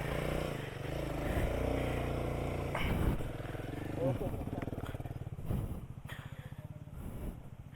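A motorcycle pulls away as its clutch is let out on a group trail ride, the engine chugging and rising unevenly under voices calling out instructions.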